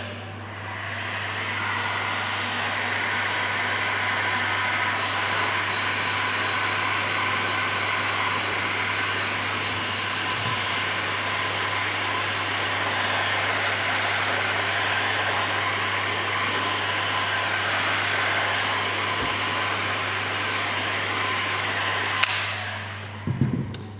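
A heat gun blowing hot air over a woodgrain delete wrap on the interior trim of a Nissan Patrol Y62, a steady close whooshing hum that runs unbroken for the whole stretch before cutting off with a small click at the end.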